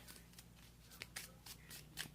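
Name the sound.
shuffling a deck of Pokémon trading cards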